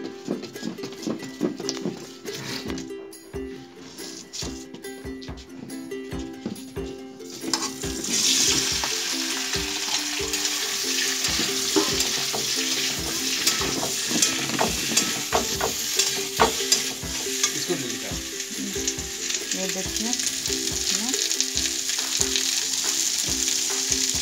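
A utensil rapidly beats a mixture with salt, coriander leaves and cumin in a hot pan, producing rhythmic close clacks against the metal, joined by loud sizzling frying after the first several seconds.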